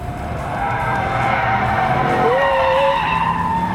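Tires of a Dodge Challenger SRT8 skid loudly with traction control off, a steady sustained squeal over the roaring engine, close and continuous for several seconds.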